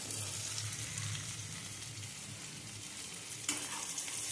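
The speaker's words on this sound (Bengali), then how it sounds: "এবার এটাকে ভালো করে কষাবো," Yogurt-marinated chicken frying in a pan for doi chicken, with a steady close sizzle and a stirring scrape near the end; no talking.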